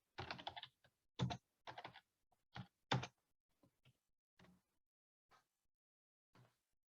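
Computer keyboard typing in short separate bursts of keystrokes with quiet gaps between them, close and fairly clear in a silent room.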